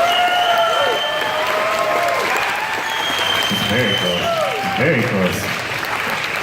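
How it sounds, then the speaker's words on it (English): An audience claps at an amusement park industry presentation, with loud applause and some cheering under a voice speaking through a microphone. "go ahead and clap right now"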